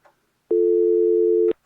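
Telephone busy signal heard while checking a phone line, one steady loud tone lasting about a second, with brief faint clicks before and after.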